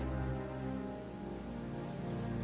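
Steady, dense rainfall used as a sound effect fills the clip as an even wash of hiss, backed by a low, sustained tonal drone and no voices.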